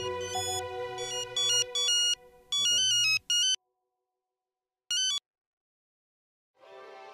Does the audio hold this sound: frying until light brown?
no